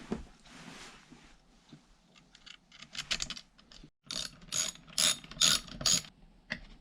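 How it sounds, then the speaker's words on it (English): A ratchet tightens the bolts holding a motor in place inside an Oster blender. Faint fiddling gives way to rapid, close bursts of crisp clicking strokes with short pauses between them. "Now I'm going to bolt it in place before I put the brushes back in."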